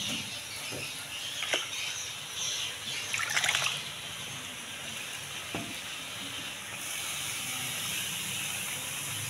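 Noodles being washed in water, with trickling, splashing and stirring sounds in bursts and a steady watery hiss close by, without any talking.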